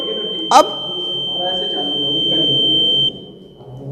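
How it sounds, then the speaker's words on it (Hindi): An electronic voting machine emits a steady, high, unbroken beep lasting about three seconds while mock poll votes are cleared, heard close and under someone speaking, with a brief clatter near the start. "तो उसके लिए जैसे ही हमने क्लियर का बटन दबाया है, तो 10 सेकंड की लगभग बीप के बाद डिलीटिंग पोल्ड वोट्स ये आएगा"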